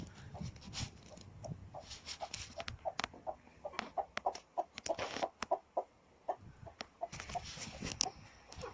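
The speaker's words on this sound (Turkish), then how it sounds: "Horoz oradan bağırıyor." A Gurk rooster crows and clucks repeatedly in rapid, choppy bursts, fairly close, with scattered rustling and other farmyard noise around it.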